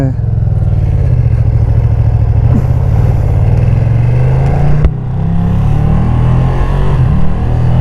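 A Ducati Streetfighter V2 motorcycle engine pulls and revs while riding, a loud low rumble that builds and dips briefly midway before climbing again, with wind buffeting throughout.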